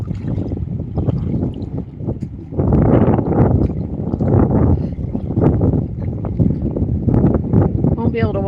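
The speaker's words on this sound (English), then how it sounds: "we're on the windy side now" Heavy wind buffets the microphone in loud, rumbling gusts beside the Missouri River, with a low outdoor roar and no clear voices.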